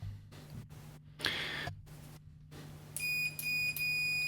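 A multimeter set to continuity test gives several short, bright electronic beeps near the end, following faint clicks and handling noise under a low steady hum.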